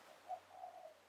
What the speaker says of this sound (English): Can you hear the turtle doves in the background?